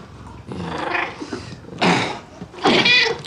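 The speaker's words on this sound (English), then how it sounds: "The stupid bloody cat!" A cat gives repeated low growls rising into louder yowling caterwauls, three drawn-out bursts close by with brief pauses between, and no talking.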